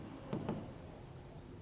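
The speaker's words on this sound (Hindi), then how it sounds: "अब दूसरा लिखता हूं मैं यहां पे" Writing on a board during a Class 12 accountancy lesson on goodwill: two quick taps followed by a faint, brief scratching stroke, quiet and with no voice.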